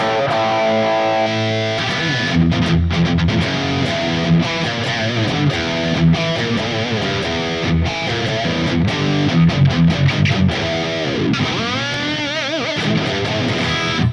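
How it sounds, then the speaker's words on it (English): A heavily distorted electric guitar through a Mesa JP-2C-style preset plays sustained chords and riffs, bathed in a smooth, lingering plate reverb, loud and continuous throughout. "This is a really simple distortion sound without anything. There is only a reverb. It's a plate reverb"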